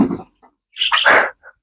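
Birds squawk loudly near an outdoor run for chickens and rabbits, with a few harsh, ragged calls in quick succession and short pauses between them.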